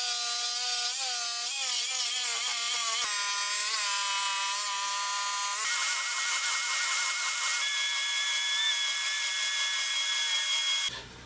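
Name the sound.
random orbital sander smoothing wood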